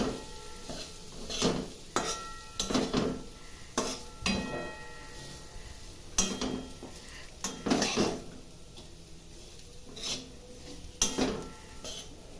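Boiled jackfruit seeds being stirred slowly in ghee in a pan, for a jackfruit-seed payesh: intermittent scraping and clinking of a utensil against the pan, repeated every second or so, close and moderately quiet over a faint background.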